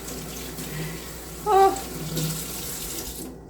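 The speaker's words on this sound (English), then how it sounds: "I'm going to wash my hands because that's how we roll" Water runs from a kitchen tap as hands are washed, a steady close splashing stream lasting a few seconds with a brief louder gush midway; someone briefly utters a short word.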